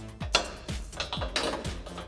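Jack being pumped to raise a Jeep Wrangler JK axle during a lift kit install, four evenly spaced metallic ratcheting clunks, close and fairly quiet.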